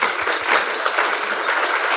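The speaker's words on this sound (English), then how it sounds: "A little applause, please." Conference audience applauding at the Mass Timber Canada Conference 2023, a steady dense patter of many hands clapping close by for the full two seconds, with no speech over it.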